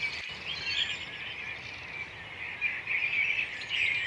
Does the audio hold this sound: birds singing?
yes